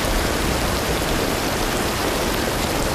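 Torrential rain at night hisses in a dense, unbroken wash of noise, loud and close with no pauses or other sounds.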